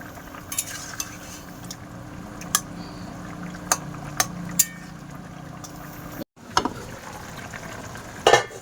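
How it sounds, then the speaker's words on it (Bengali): Fish curry gravy bubbles steadily in a pan, a low continuous simmer broken by several sharp metallic clinks of a spoon against the pan and a brief cut near the end. "ঝোলটা কিন্তু ভালোই ফুটতেছে"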